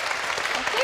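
A short burst of audience applause at a charity cheque presentation, dense clapping with a voice rising over it toward the end.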